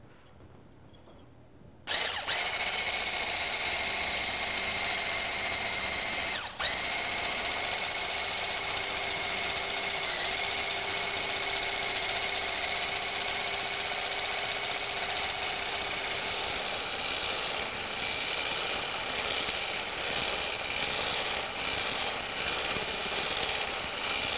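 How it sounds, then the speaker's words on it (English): An electric hand mixer beating egg whites to stiff peaks for pancakes, switching on abruptly after a short silence and then running as a steady whirring drone with a slight change in pitch, close and alone. "we're going to beat our egg whites until they form stiff peaks. I like to use my hand mixer."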